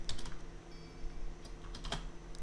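A new computer keyboard clatters with quick, soft keystrokes in an uneven rhythm over a steady low hum, with a few louder key taps and no voices.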